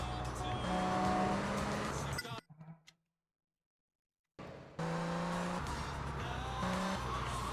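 Racing cars in GTA Vice City Stories on PS2 roar loudly with engine drone and tire squeal, cut off by a sudden stretch of near silence before the racing noise returns just as loud.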